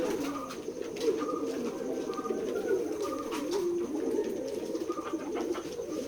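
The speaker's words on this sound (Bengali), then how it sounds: "আমাদের ফার্ম হাউস কবুতরের খামারে দেশি বিদেশি সকল ধরনের কবুতরের বাচ্চা বিক্রয় করা হয়" Pigeons coo continuously at a pigeon farm in Keshabpur, Jashore, a dense overlapping chorus of low rolling coos from many birds, fairly close and steady throughout with no talking.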